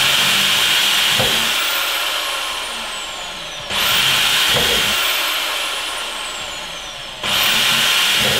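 A power drill whines loudly in two long passes, each starting sharply and slowly winding down in pitch as it bores a hole in the back of a garden water butt.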